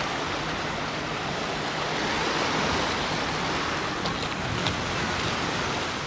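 Steady wash of sea waves breaking and rushing at Alcúdia Port, Mallorca, a broad continuous roar with no voices.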